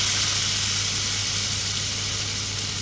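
Garlic, green chilli, shallots and tomato fry in hot oil, giving a steady, close sizzling hiss that runs evenly from start to finish.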